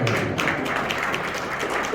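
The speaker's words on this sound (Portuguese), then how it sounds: "palmas para ela" A church congregation claps together for a girl during a Bible school class, a dense steady patter of hands filling the room for the whole stretch.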